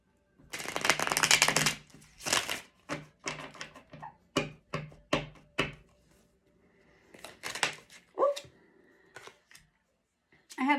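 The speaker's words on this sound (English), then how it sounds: "Give it a quick shuffle." Tarot cards being shuffled in a series of crisp riffling bursts, a long flurry followed by shorter snaps, close and clear, with a brief voice near the end.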